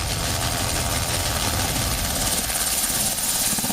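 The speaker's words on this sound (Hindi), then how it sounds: "ये Mi-17 मल्टीपर्पज हेलीकॉप्टर है, सर्च एंड रेस्क्यू में पारंगत।" A Mi-17 multipurpose helicopter flies over the Ganga Expressway, giving a loud, close, continuous roar of turbine engine and rotor thrum. The sound is steady throughout, with no talking over it.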